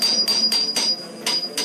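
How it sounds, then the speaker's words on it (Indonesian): Hammer blows striking an old building's wall, six sharp broadband impacts in an uneven rhythm, close and fairly loud, with a steady high tone running underneath. "Salah satu dari mereka pun mulai memukul tembok tersebut dengan sebuah palu."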